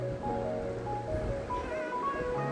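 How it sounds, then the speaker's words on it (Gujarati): Water sprinklers spray across a peanut field, a steady, moderate hiss of falling water with faint tonal hums running beneath it. "બાજુમાં ફુવારાઓ ચાલુ છે"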